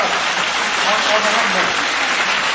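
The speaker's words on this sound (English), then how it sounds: "Do the clap." Clapping rings out during a livestream, a continuous broadband wash of applause holding at a steady, loud level while a voice talks over it.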